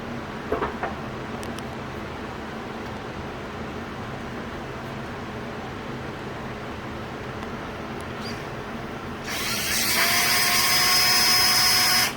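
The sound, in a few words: drill mixing paint with paddle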